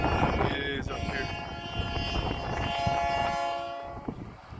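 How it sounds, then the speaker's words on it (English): Horn of the Mount Washington Cog Railway train returning to the station, a loud sustained tonal blast over rumbling rail noise, with voices partly audible underneath. "So that's the horn of our train coming back into the station."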